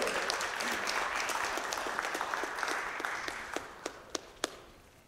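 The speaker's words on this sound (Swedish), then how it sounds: "Stora applåder." An audience at a rally applauds after a song, a dense wash of clapping that slowly thins out until only a few last loud individual claps remain.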